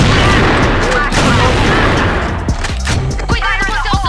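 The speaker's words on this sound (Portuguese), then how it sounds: "estão dando tiro na sala" Gunfire in a shooter video game rattles in dense, loud bursts, with sharp individual shots and echoing booms toward the end, continuous over a game soundscape.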